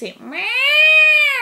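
A small cat gives one long, clear, drawn-out meow, close and loud, with a brief voice just before it.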